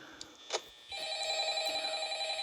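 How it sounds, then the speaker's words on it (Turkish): A telephone rings nearby with a steady electronic warble after a couple of short clicks, continuing without pause and with no one talking. "Evet gene telefon çalıyor."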